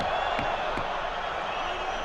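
Rugby stadium crowd at an Italy versus Wales match, a steady wall of murmuring and reacting voices, loud and diffuse, with a couple of faint thuds beneath.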